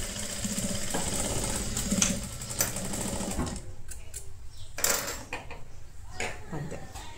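Sewing machine stitching kids' palazzo pants, a steady mechanical whir that runs loud through the first half, then breaks into shorter bursts with brief pauses and a few clicks.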